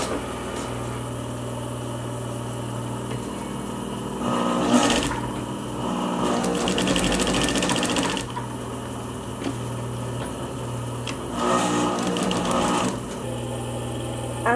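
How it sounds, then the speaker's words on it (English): A sewing machine stitches the lining fabric of a luxury face mask in a steady mechanical hum, with louder bursts of fast running between quieter idle stretches, close and alone. "I'm sewing the lining side in here"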